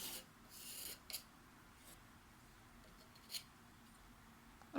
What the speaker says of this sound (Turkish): Ee, bu bölgeleri kazıdım.